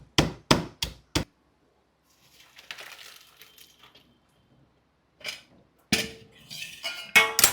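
Garlic cloves and ginger pounded by hand, four sharp close thuds at the start, then soft scraping and rustling, with a few more knocks and clatter near the end.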